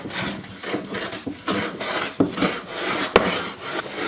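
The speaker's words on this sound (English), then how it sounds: "I've got the blade set, so I'm removing very, very small amounts of material" Rhythmic rasping strokes of a hand plane taking very fine shavings off a wooden Telecaster guitar body blank, close and steady with a few sharper scrapes.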